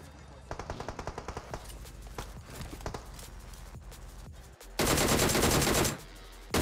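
Machine gunfire in PUBG Mobile: a rapid burst of evenly spaced shots near the start, scattered further shots, then a loud sustained stretch of dense automatic fire before it stops.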